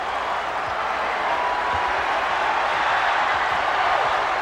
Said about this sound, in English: the cheers of the crowd ringing in his ears